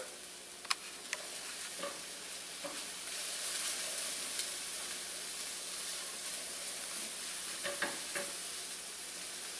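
Red and yellow onions with garlic sautéing in a pan, giving a steady soft sizzle with occasional ticks and clicks from stirring, fairly quiet and close.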